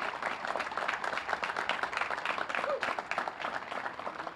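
Audience applause for Ambassador Ray Flynn at the Harry Uhlman bandstand dedication, a dense, steady crowd clapping that holds at an even level throughout, with no voices over it.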